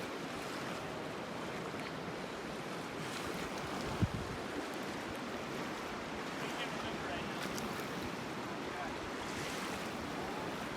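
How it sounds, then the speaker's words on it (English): Strong, steady wind roars across the floor of the Grand Canyon in July, a constant broadband rush with microphone buffeting and one sharp knock partway through. "Yeah, it's windy. It's crazy windy."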